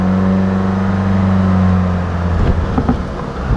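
A VW car engine idles steadily with a low, even hum while the DSG transmission fluid warms, then the drone fades out and a few soft clunks and rattles follow.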